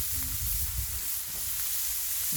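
Pita bread burgers frying in a pan give off a steady, soft sizzle with low crackling underneath, continuous and fairly quiet throughout.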